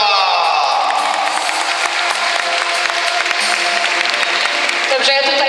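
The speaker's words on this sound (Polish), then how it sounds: "I pani Patrycja Snedera, wielkie, wielkie brawa!" Audience at a children's charity concert applauding loudly, with dense continuous clapping mixed with cheering and whoops throughout, steady and close, with no pauses.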